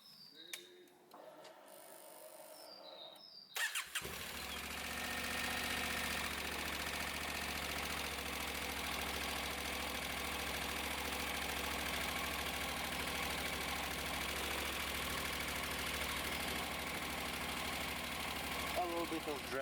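A cold Honda NC750X motorcycle engine starts after a few seconds of quiet and then idles at close range, with a steady, even running drone and a faint voice at the start.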